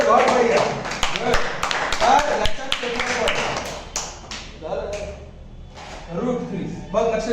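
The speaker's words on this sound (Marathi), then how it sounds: "टाळ्या वाजवा त्याच्यासाठी." Children in a classroom clap together, a run of sharp, uneven hand claps filling the room near and loud, with a voice speaking briefly between bursts.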